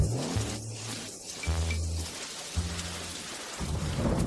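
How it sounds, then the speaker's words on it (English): Steady heavy rain with rumbling thunder in a mountain thunderstorm, continuous and fairly loud throughout, with a low tonal drone underneath and no talking. "I'd better wait until the rain stops before going down."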